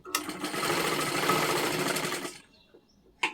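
A sewing machine stitches a blouse in one steady, fairly loud run of about two seconds, then stops, leaving near silence before a brief click.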